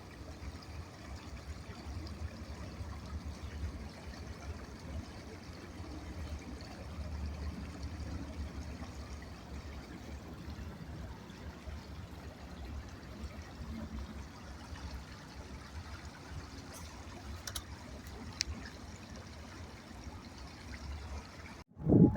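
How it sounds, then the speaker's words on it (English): An outdoor water stream trickles and burbles steadily for the whole stretch, a soft continuous wash close by with a faint clatter at the end. "just sit here and listen to the water"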